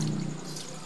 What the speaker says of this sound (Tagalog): hugasan niya dyan sa gripo mga kabes